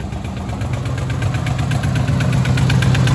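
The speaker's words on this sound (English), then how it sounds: "we have a rather aggressive ticking" A Ford Mustang S550 with the Coyote engine idles close up with a loud, steady rumble, overlaid by a fast, sharp, aggressive ticking that repeats evenly throughout.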